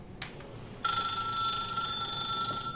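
A telephone rings in the Echoes: The Cocktail board game app, starting after a brief click, then a bright sustained electronic bell tone that continues to the end.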